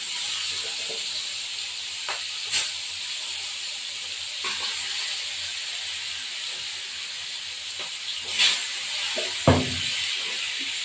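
Pieces of bhetki fish, rubbed with salt, turmeric and lemon, frying in hot oil: a steady hiss and sizzle runs throughout, with a few brief clatters and a louder knock near the end.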